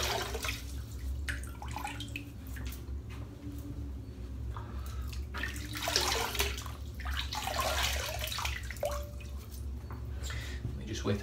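Water splashes and drips at a sink while a face is wetted for shaving, a continuous close wash of splashing with irregular louder slaps of water.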